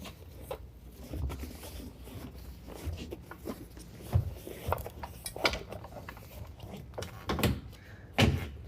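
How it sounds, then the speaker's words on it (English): A soft Access Lorado roll-up tonneau cover tarp is rolled toward the tailgate on a 2015 Ford F-150, giving a series of close rustles, soft thumps and clatters at irregular intervals, with no talking. "We're going to roll the tarp to the tailgate."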